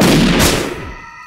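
A single loud, close gunshot from a handgun, a sharp crack followed by a short decaying echo that fades within a second.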